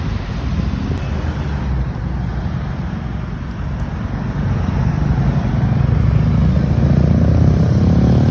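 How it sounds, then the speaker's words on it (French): Cars pass along a seaside street in Le Tréport, a continuous roar of traffic and tyre noise that swells louder toward the end, with wind buffeting the microphone. "Il y a plein de voitures là."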